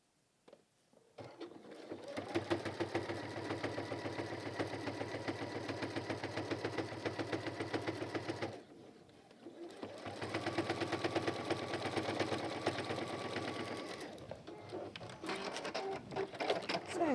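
A sewing machine stitching a velvet folded pouch runs in a steady, fast mechanical whir, pausing briefly once and starting again, close and alone at moderate loudness.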